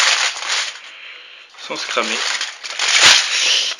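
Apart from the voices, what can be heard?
covering with aluminium foil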